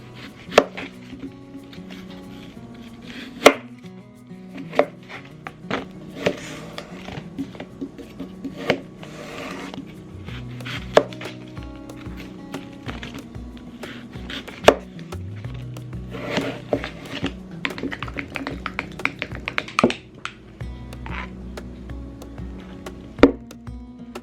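Knife chopping an apple on a cutting board at home, with a series of irregular close, sharp knocks and thuds spread over the clip and softer cutting and handling sounds between them, no talking.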